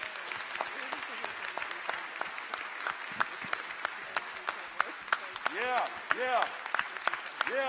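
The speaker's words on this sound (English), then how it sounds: "I'd like to give her a round of applause as well." Sustained audience applause fills a community forum honoring Dr. Martin Luther King Jr., with dense, steady clapping throughout and a few voices and cheers rising over it near the end.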